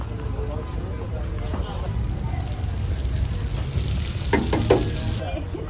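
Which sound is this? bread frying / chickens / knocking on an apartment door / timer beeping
bread frying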